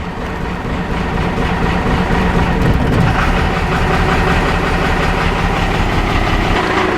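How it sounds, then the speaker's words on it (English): A 1983 vehicle's engine idles very low and rough, a loud, continuous rumble with a dense pulsing throb that keeps up for the whole seven seconds, heard up close and without talking. "That's an awful low idle."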